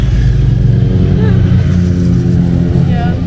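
Loud motorbikes pass close by near a 12th-century medieval castle and village, their engines revving in a continuous growl over the whole moment while people talk.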